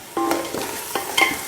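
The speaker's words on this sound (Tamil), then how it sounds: "பிரியாணிக்கு எப்பயுமே வெங்காயம் வந்து இந்த அளவுக்கு நல்லா வதக்கிடுங்க." Onions sauté in hot oil as a biryani base, with a steady sizzle broken by several stirring scrapes and clatters close by.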